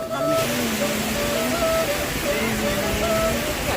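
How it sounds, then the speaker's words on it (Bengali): A waterfall in a forest at Bamnipahar, Purulia, roars as a steady, dense wash during heavy rain, with faint tonal hums running through the broadband noise and no voices. "ওপারে ঝর্ণার কমোচ্ছ আওয়াজ দেখো"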